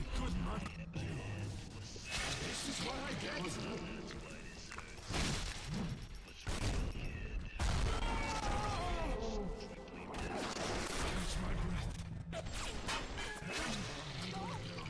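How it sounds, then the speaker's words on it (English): Grenades fired at Fontaine in the BioShock video game: repeated booming blasts and crashes amid busy game effects, with someone talking over much of the action. "shoot your normal grenades at Fontaine to kill him"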